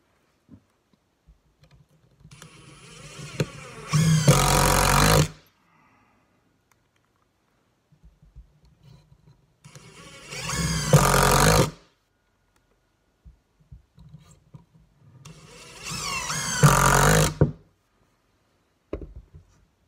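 A Ryobi brushless power tool runs in a speed test, giving three separate bursts of loud, high whirring, each lasting a few seconds, with quiet handling clicks and near-silence between runs.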